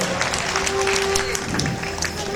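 An audience applauds at a spiritual discourse gathering, with a dense, steady wash of clapping that runs the whole time beneath someone talking loudly, plus a faint sustained tone.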